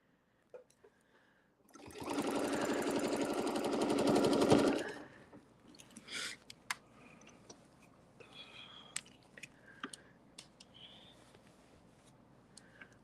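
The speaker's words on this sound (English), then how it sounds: "I'm just going to stitch in the ditch up to that top one." A sewing machine stitches in the ditch along a quilt seam during ruler quilting, a loud close burst of rapid stitching lasting about three seconds, followed by quiet handling clicks and rustles of fabric.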